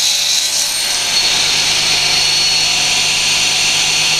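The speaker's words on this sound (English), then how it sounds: "I'm going to turn the saw on." A table saw cutting a wooden board pushed through on a sled gives a loud, steady whining drone that holds without a break from start to finish.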